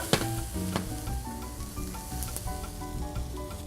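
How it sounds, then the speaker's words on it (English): Onions sizzling steadily in a hot pan as they are tossed, with close clatter and scraping over the constant frying hiss. "let's toss those onions around a little bit."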